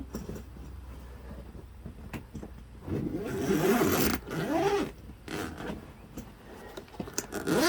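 A double zip on a recurve bow case being drawn open, a rough rasping run of zipper teeth in bursts, close and fairly loud, with light handling noises around it.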